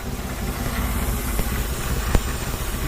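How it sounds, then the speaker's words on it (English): A running Datsun Z car engine idles with a steady low drone under a broad airy hiss from an air leak, close and even with a couple of faint ticks and no talk. "I'm hearing something. Air leak. That's not sounding good."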